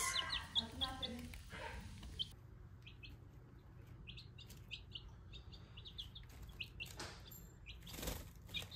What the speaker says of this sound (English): got these chickies home